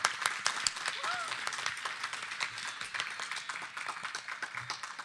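Audience applause at an Urdu Academy music event welcoming a guest, steady clapping of a seated crowd with sharp individual claps, moderately loud and continuous throughout.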